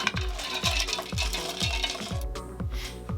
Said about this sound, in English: Then we'll just add some ice before we blend it up.